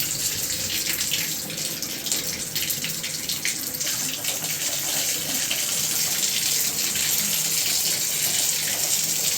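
Water runs hard and steadily through a clogged drain, a loud continuous gushing rush with air gurgling in the pipe, close by and with no talk.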